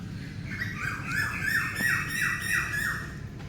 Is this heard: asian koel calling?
yes